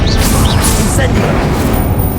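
A fire spell cast in the video game Hogwarts Legacy bursts out as a loud, close whoosh with crackling impacts, dense broadband noise filling the brief moment.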